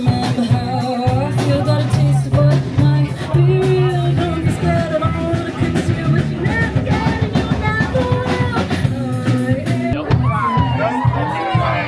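Crowd at a packed live music show, a dense roar of cheering and shouting with music-like tones underneath, loud and continuous throughout.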